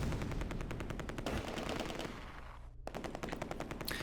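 Heavy machine gun fire in the wartime strategy game Close Combat II, long rapid bursts of repeated shots that pause briefly with a sudden dropout, then resume in another fast burst.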